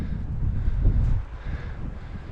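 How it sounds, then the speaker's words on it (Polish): Gusty wind buffeting a microphone at a construction site during snowfall, with rumbling low bursts that swell and then ease off, no speech. "Śniegiem sypie, wiatrami wali"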